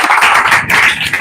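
A congregation at a women's New Year church service claps for Aunty Lavija, a brief, close, dense burst of hand clapping lasting just over a second.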